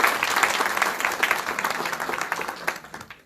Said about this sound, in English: there should be a special clap for two hardworking individuals who started from the start until the end